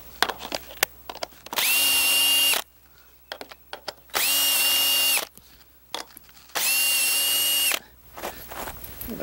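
Power drill backing screws out of a greenhouse track, three sustained whirring bursts of about a second each separated by short pauses filled with faint handling clicks and rustles.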